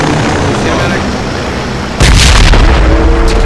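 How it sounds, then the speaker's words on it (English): Grenade blasts in the military shooter game Project Reality: a loud, heavy boom cuts in midway over a constant rumbling battlefield din, with voices present in the mix. "Stop throwing grenades."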